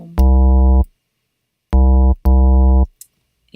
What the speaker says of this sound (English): or maybe a square waveform,